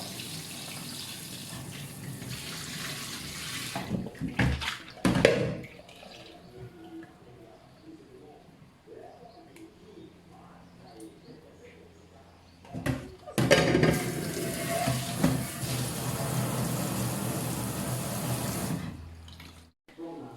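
Tap water runs into a sink as a whole fish with its scales still on is rinsed clean for salt-baking, with a strong gush at the start, a quieter stretch of splashing and handling, then the flow surging again.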